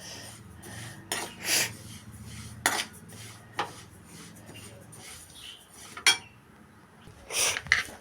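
Sesame seeds roasting in a pan are stirred with a metal utensil, giving sharp, irregular clinks and scrapes against the pan over a quiet kitchen background.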